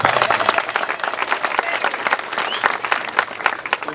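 Loud, steady applause from a large crowd at an outdoor Uhuru Torch race rally in Tanzania, dense clapping sustained throughout the four seconds with no pause.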